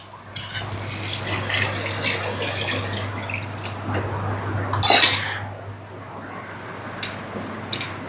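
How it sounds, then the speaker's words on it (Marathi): A cooking pot is rinsed and the water tipped into the tempering: close clattering of metal, sloshing and a strong splash near the middle, then scattered lighter knocks. No voices. "हे भांडं व्यवस्थित विसळून घेऊयात आणि फोडणीत ओतून देऊ"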